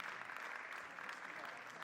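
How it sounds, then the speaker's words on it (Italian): Short burst of audience applause at an evening fashion show in Messina, dense and even, held at steady loudness for under two seconds. "Prendetevi questo applauso che ve lo meritate tutti"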